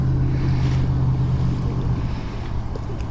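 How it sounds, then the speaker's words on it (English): A motorboat easing past near the start of a no-wake zone on a lagoon, its low, even engine hum steady and close before fading a little toward the end, with wind and water noise underneath. "Good sounding boat though."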